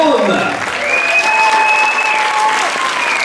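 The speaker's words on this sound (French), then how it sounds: "Les 13 à l'Ouest justement qu'on va applaudir très fort" Audience applause fills the room at an improv theatre match between two teams, a dense, steady clapping that holds throughout while a voice talks over it.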